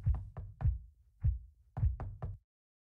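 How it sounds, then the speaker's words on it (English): Knocking on a door in a horror video game: seven sharp, hollow knocks in two quick clusters, loud and close, with a brief pause between groups and no voices over them. "Oh shit, someone is knocking"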